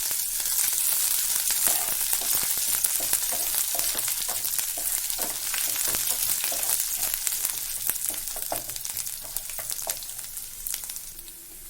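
Ground green chili and cumin fry in a pot for tomato coriander rice, a close, loud, crackling sizzle with rapid pops running continuously and easing slightly toward the end.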